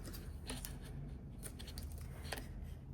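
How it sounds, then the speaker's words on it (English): Washi tape is sliced with the edge of a small checklist card in a quiet planner-decorating setting, giving faint, crisp snipping and rustling sounds that carry on steadily for a few seconds. "I'm using the little checklist bullet point card to cut the washi."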